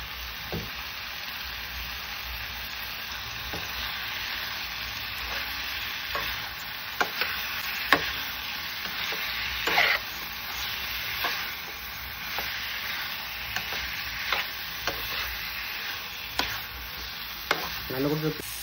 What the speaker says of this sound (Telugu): chicken fry